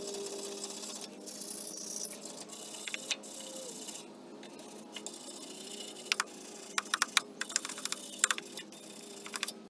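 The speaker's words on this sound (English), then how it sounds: "what I'm gonna do is just take a wire brush and start by just kind of brushing off a little bit of this" A wire brush scrubs rust off the frame of a Toyota Tundra or Sequoia truck, giving a steady, close, scratchy rasp with bursts of sharper clicks and scrapes and brief pauses between strokes. No one talks.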